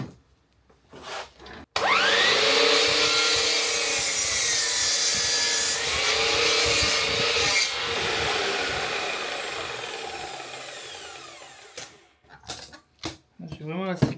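A saw cuts through a wooden post for a ranch-style fence in one long, loud, continuous stretch that rasps and grinds, then fades out into scattered knocks.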